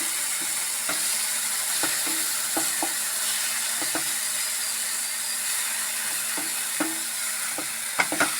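Tomato paste being stirred in a hot pan, with a steady sizzle of frying under repeated scraping strokes of a spoon against the pan, close and moderately loud.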